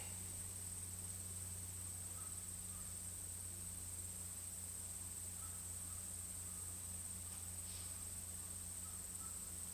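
Steady, faint insect humming and chirring runs throughout, a constant high drone over a low background hum, with no voices.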